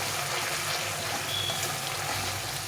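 Masala with Kashmiri chillies fries in oil, giving a steady, dense sizzling crackle close by that holds at an even level throughout with no talking.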